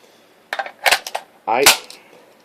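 A stainless steel USGI-style M16 magazine is forced into a factory Armalite rifle, producing a few sharp metallic clacks followed by a harder slam, close and loud, all within a couple of seconds.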